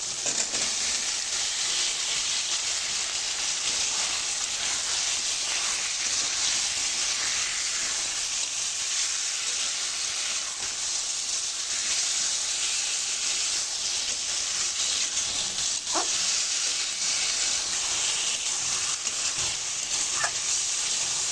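Taro roots frying with prawns, turmeric and spices in a pan, giving a steady loud hiss and sizzle throughout with a few faint scrapes, and no voices.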